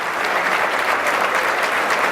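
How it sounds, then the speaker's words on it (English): Symposium audience applauding schools for their lighthouse status, a loud, dense and even roar of many hands clapping at once. "We need to give you a round of applause for your lighthouse status."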